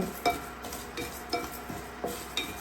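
Whole cloves, cardamom pods and cinnamon sticks are stirred while roasting in a pan, giving a steady gentle sizzle with repeated light scraping strokes of a spoon about every half second.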